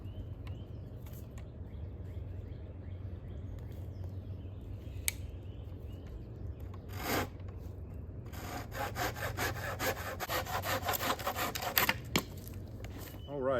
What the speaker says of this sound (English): my best bet is going to be to cut a spindle off from between this knot and this bend right here